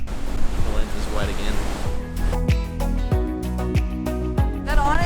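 Ocean waves crashing hard against a cliff at Punta Sur on Isla Mujeres, Mexico, a loud, continuous roar of surf and wind buffeting the microphone, with people talking over it.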